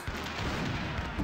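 A cannon fires in the pirate adventure game Monkey Island 3, a dull, continuous boom and rumble that fills the short stretch without a sharp distinct blast.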